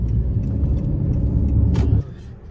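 Engine rumble from inside a car creeping through slow city traffic, a steady low drone that drops off suddenly near the end.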